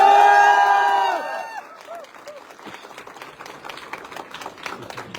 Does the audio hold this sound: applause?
yes